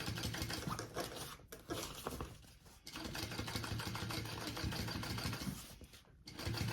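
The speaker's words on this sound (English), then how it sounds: "we are now going to top stitch along that back panel piece that we just sewed on" A sewing machine topstitches across a thick, foam-backed back panel, running in steady continuous bursts with short pauses between runs, close and fairly loud throughout.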